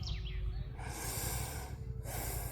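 A deep, drawn-out breath pulled in through the nose, a close, breathy rushing sound with a faint snort-like edge. It swells and fades over a couple of seconds, with no talking.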